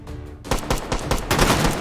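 Rapid gunfire in the VR shooter game H3VR, a quiet moment followed by bursts of loud, close shots in quick, uneven succession, with no talk.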